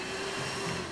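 In the video game Scary Teacher, Miss T runs a handheld dustbuster vacuum, a short, steady whirring drone with an airy hiss that stays even and fairly quiet throughout.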